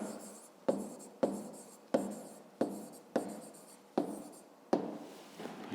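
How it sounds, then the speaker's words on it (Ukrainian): A pen writes an answer on paper by hand, close and quiet, with eight evenly spaced strokes, each a sharp tap followed by a short scratch. "Ну, а тепер записуємо відповідь."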